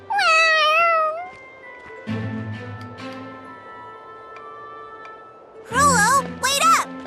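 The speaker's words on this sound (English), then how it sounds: "You hungry, fat cat?" A cat in the video game Tales of Xillia 2 gives a long, loud meow at the start. Voices from the game talk over soft background music, and then two more sharp meows come near the end.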